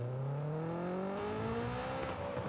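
Honda S2000 engine revving up steadily toward VTEC engagement, a continuous rising mechanical drone whose pitch climbs over several seconds, loud and close with no talk over it.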